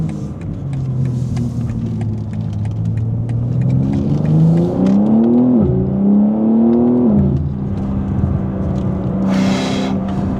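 A BMW M4 G82 engine pulls hard under acceleration, its note rising through the revs with a shift and then climbing again, loud and close with no talking.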